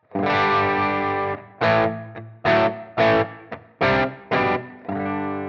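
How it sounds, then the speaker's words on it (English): Gibson Les Paul Standard 60s electric guitar through a German Xtra Blue amp model at edge of breakup, a sustained driven chord followed by a series of choppy, rhythmic distorted chord stabs, loud and alone. "Playing my Gibson Les Paul Standard 60s"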